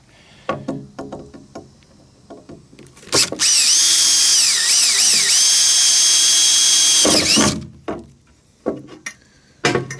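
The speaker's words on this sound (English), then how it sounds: "I'm going to drill a small pilot hole." A power drill, hammer mode off, whirs loudly for about four seconds boring a small pilot hole, its pitch dipping as it bites into material, framed by handling clatter and light knocks before and after.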